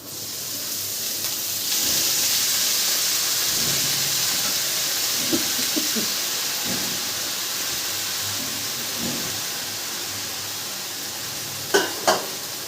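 Washed vegetables land in a hot pan and set off a broad, steady sizzle and hiss that carries on evenly, with a few faint clinks of a utensil toward the end and no talking.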